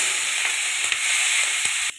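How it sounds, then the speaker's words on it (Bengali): Onion and capsicum frying in oil in a wok, a bright continuous sizzle up close with a few soft stirring clicks and scrapes, ending with an abrupt drop in level. "এবার পেঁয়াজ কলি ক্যাপসিকামটা ভেজে নেব"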